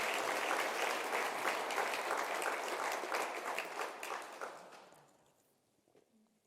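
A large indoor crowd of about 250 attendees at a whisky distillery masterclass applauds loudly and evenly, then the clapping tapers off to near silence before a last faint clap.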